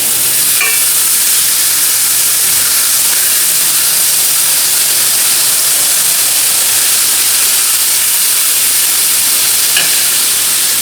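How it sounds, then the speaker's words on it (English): Steak frying in a pan, a loud, steady, close sizzle with constant hiss and no talking. "I wonder how this mic is picking up on the sizzling."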